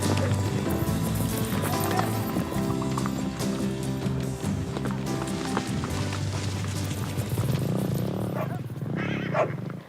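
Young foals born in the wild run from riders trying to catch them in Chile's Atacama, with a loud continuous rumble of hooves and movement up close.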